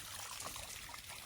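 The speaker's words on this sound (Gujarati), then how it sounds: "અહીંયા પાણી નીકળ્યા રાખે છે." Water trickling from a spring on a forested hillside near Ghumli, a soft, continuous dribbling wash heard faintly and alone.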